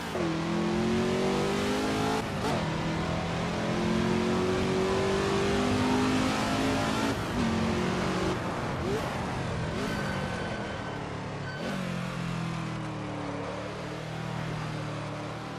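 A Ford GT40 race car in the Assetto Corsa game lapping Spa, its engine droning loud and continuous with rising revs, several sharp gear-change dips and swooping pitch shifts, and no voices over it.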